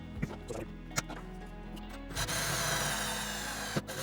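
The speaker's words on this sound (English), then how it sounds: "we'll drill our first hole into our BMW" Some clicks and handling noises, then a power drill whirs into action and bores steadily into a BMW car with a bright, grinding hum, close up and fairly loud.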